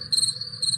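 A cricket chirps loudly and up close in two short rhythmic pulsing bursts, a bright trill standing alone without any talk.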